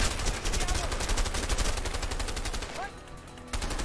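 Gunfire in the video game A Way Out, a dense rapid burst of shots that pauses briefly and resumes, loud and close.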